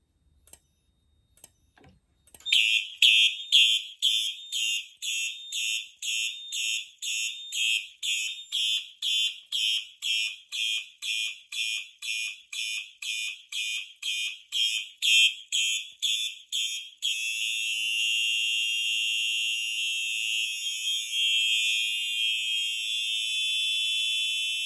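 A fire alarm system goes off after agent release is triggered, pulsing in a rapid regular series of loud shrill beeps that then switch to a steady continuous tone, with no voices over it.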